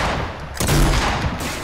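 Video game gunfire in a short, loud burst of rapid shots with a heavier blast midway, close and dense throughout.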